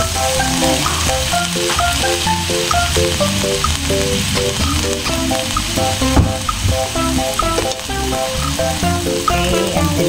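Dried fish (tuyo) fries in a pan with leftover grilled pork, a constant loud crackling sizzle over a background of repetitive music.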